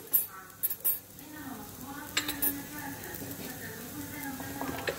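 Flour toasts with butter and onion in a pan for Turkish lentil soup, giving a steady soft sizzle broken by a spoon scraping and clinking against the pan. A voice talks over the cooking.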